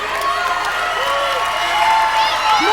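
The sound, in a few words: audience applause and cheering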